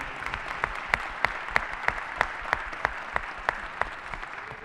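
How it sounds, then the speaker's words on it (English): An audience at a county disaster preparedness panel gives a round of applause, steady moderate clapping from a modest crowd, with a few sharp, distinct claps rising above the rest at a regular beat. "give Middle Tennessee Electric a round of applause for their preparation"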